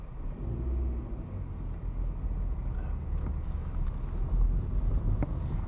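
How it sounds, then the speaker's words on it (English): Wind gusts outdoors on the West End in winter, a steady low roar of buffeting and rumble right at the microphone, with no voices. "It's always windy out on the West End."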